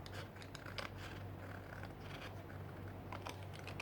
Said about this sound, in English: cutting with nail scissors